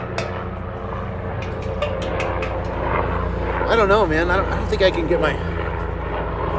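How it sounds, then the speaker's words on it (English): A helicopter passes overhead as a steady low rumbling drone with rotor chop, under someone talking close by, swelling slightly midway through. "There's a helicopter going above."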